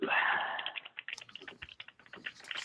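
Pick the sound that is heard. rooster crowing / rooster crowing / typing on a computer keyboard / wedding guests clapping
typing on a computer keyboard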